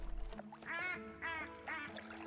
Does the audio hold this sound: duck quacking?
yes